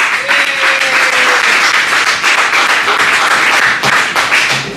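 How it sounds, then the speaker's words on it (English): Loud, dense applause and clapping from a live audience at a comedy night in an Irish pub, sustained and even throughout as a comedian is welcomed to the stage. "Please put your hands together for Mr. Joe Shea."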